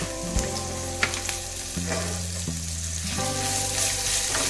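Chili dropped into garlic already browning in hot oil sizzles steadily and close, with a few sharp pops and stirring clatters; the garlic tempering is for an okra bhindi sabji, and no one speaks.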